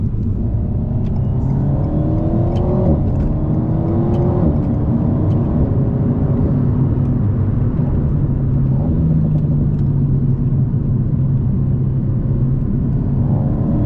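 An Alpine A110 sports car drives along with a steady engine rumble and whir, the revs rising and shifting in smooth gliding sweeps, heard from inside at a constant loud level throughout.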